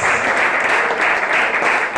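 A church congregation bursts into steady, dense applause during a worship service, loud and sustained throughout with no pause.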